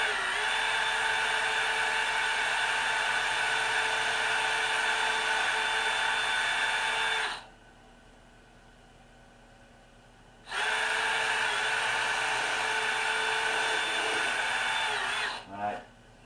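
Electric drill fitted with a pilot bit boring holes for trim screws in an antique van armrest support, a high whirring motor running steadily for several seconds, pausing briefly, then running again before stopping.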